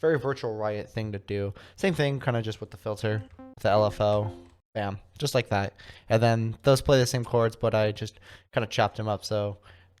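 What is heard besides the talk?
No distinct noise like a dog, phone or traffic.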